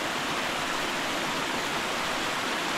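A waterfall roars as a dense, steady, broadband rush of falling water, close and loud, unbroken throughout with no voices.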